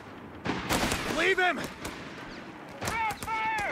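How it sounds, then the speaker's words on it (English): Bursts of MG42 machine gun fire in the real-time strategy game Company of Heroes 3, short rattling volleys mixed with other battle noise, with in-game voices speaking over and between them. "MG42 on their flank. Now, instant suppression on one rifle squad"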